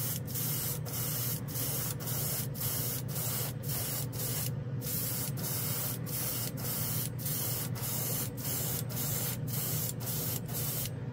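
Inspire chrome paint hisses from a spray gun over a coarse silver base coat, a continuous close spray broken by quick regular pulses as the gun passes back and forth.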